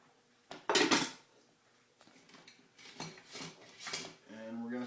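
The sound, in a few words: broth being added to turkey stuffing in a bowl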